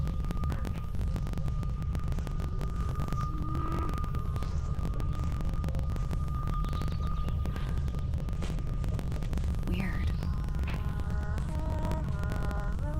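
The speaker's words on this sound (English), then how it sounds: "A distorted humming melody can be heard." A water-damaged old cassette tape, fished from a pond in the Tangled Tower video game, plays a warbling, distorted hummed melody over a steady low throbbing hum, with one brief spoken word near the start.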